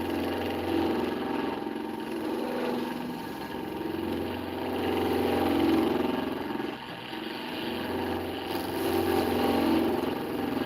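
A boat engine cruises steadily at around 1,350 RPM, a continuous low droning hum with broadband wash, fairly close and even in loudness throughout, no talking.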